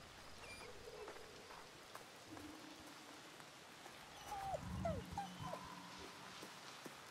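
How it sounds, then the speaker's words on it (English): In the Somerville game, a dog gives a few short, faint barks and whines through steady rainfall, the rain a constant patter underneath. "It's a dog."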